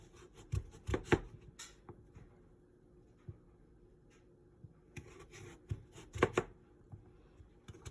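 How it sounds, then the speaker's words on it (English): Knife cutting through a peeled 5-pound butternut squash into 1-inch cubes on a board, with sharp irregular chops in small clusters separated by quieter pauses, close and fairly loud with no talking. "I'm using a 5-pound butternut squash, which I washed and am peeling and cutting up into 1-inch cubes"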